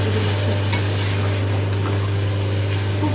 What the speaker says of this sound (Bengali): সব কটা বেশ সব কিছু নাড়িয়ে চাড়িয়ে ভালো করে মশলাগুলো মাখিয়ে নেব।